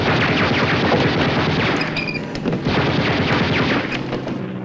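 Live ammunition fires in rapid, continuous bursts, loud and close, in a dense, unbroken volley from a film comedy scene.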